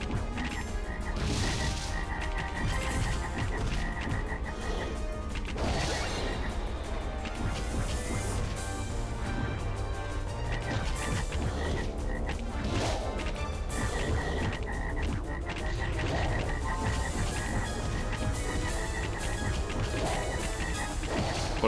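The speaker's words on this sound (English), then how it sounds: "30 to 50 feral frogs." Dense, loud chorus of many frogs croaking in the Altered Beast video game, with repeated croaks and occasional crash-like hits running continuously over a busy game soundtrack, no talking.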